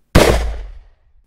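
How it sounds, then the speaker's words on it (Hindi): A single loud gunshot sound effect in a Hindi-Urdu murder-mystery riddle story, one sharp close bang that rings out and decays over about a second, with no talk. "और इसके बाद गोली चलने की आवाज आती है।"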